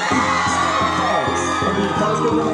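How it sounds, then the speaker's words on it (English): Dance event crowd screaming and whooping over a DJ's pounding dance track, with the beat thumping steadily under a dense wall of yells throughout. "Somebody scream!"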